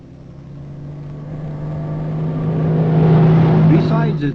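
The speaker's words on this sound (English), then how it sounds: "now fully completed and ready for trucks and trailers roaring past" A heavy truck roars past on a newly completed road in Karenni State, Burma, the engine growling louder as it approaches and peaking close by before passing.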